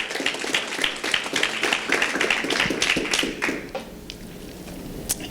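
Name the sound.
church congregation clapping, round of applause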